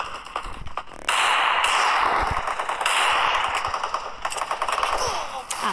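Rapid bursts of video game gunfire, sustained automatic fire with brief pauses, loud and close, with some muttered speech underneath.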